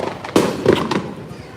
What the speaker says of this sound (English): Those are fireworks, not gunshots